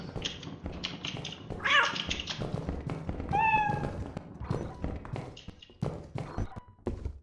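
Cat meows in the game Lethal Company come twice as clear rising calls, set among soft thuds and footfalls with little talk.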